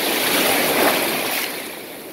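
Waves rolling onto a Gulf of Mexico beach at Gasparilla State Park near Boca Grande, Florida, a loud broadband rush of surf that swells and then eases off, with wind buffeting nearby.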